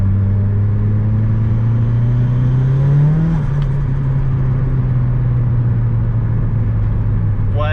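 A turbocharged Mitsubishi Lancer with a 4G93 engine pulls hard under acceleration, a loud steady engine drone heard from inside that rises in pitch and then settles back, with road rumble underneath.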